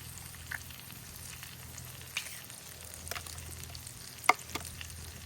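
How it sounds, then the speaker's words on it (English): Eggs dropped into a hot single pan for a brunch dish fry with a soft, steady sizzle, with scattered light ticks and one sharper click near the end, close and without talk. "We're going to just drop an egg in there."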